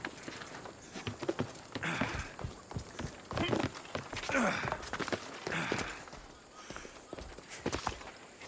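Horse hooves clip-clop at a quick, steady gait in the video game Assassin's Creed Odyssey, mixed with other game sounds and voices throughout.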